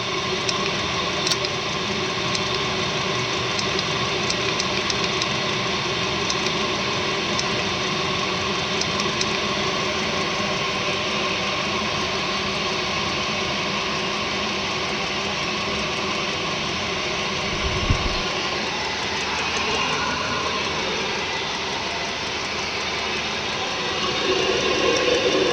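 An 8 kW diesel heater at an off-grid cabin runs steadily with a loud, constant exhaust roar and hum, holding an even drone throughout with a brief low thump partway through.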